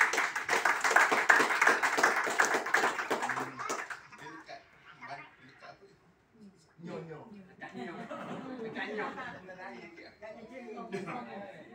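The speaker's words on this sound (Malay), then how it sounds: "tepuk tangan dulu untuk dia" Clapping from a meeting audience at a corporate gathering fills the first few seconds as a dense patter, then fades into scattered talk and chuckling from several people.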